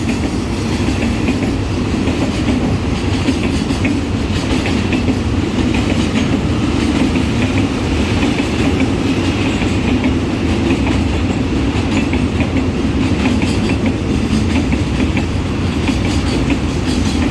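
Express train wheels clacking steadily over rails, a loud, continuous rumbling roll that stays close throughout.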